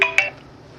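A phone gives two quick electronic beeps as it is switched off, close and clear, then falls silent.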